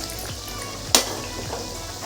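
Sweet snacks of jaggery and wheat flour (kapnya) fry in hot oil over low-medium heat, a steady soft sizzle with a sharp clatter near one second, with no voices.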